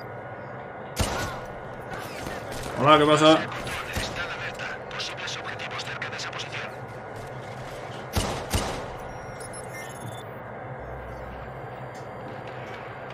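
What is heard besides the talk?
gunfire in a video game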